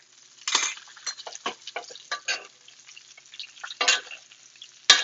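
Butter spooned over brioche frying in a pan, with a steady sizzle and several soft scraping spoon strokes and metal clinks, ending in a sharp clink.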